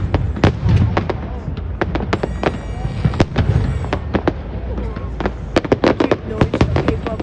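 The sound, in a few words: New Year's fireworks in New Orleans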